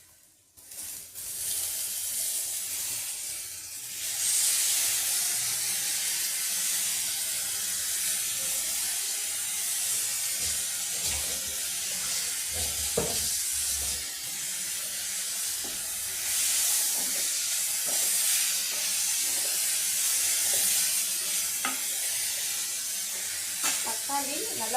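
Onions and tomatoes sautéing in a pan, a continuous broad sizzle and hiss throughout, with a few clinks of utensils and someone talking over it.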